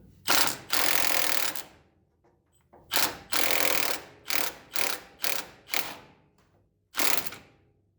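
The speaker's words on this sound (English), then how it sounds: "So now I'm going to try to get this cotter pin out of here." Cotter pin being worked out of a castle nut on a 1967 Chevy C10 suspension during lowering-kit install, a series of loud, harsh metallic ratcheting scrapes in bursts, close up and without speech.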